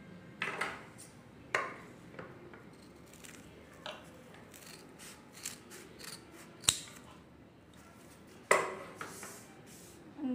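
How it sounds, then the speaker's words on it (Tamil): Scissors cut folded cotton cloth for a water bottle cover, making close, quiet snips with sharp metallic clicks. The cuts come one at a time at irregular intervals, with soft rustling in between. "இது டபுளாக மடித்து கட் பண்ணிவிடுங்க."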